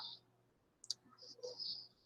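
A computer mouse gives a quick, faint double click to open a Bible application on a PC, with a few soft clicks before and after in a quiet room.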